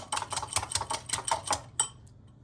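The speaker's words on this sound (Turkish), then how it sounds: "Bir yumurtayı çırpıyorum" An egg whisked in a bowl, about a dozen quick rhythmic clinking strokes up close, then a final tap before falling quiet.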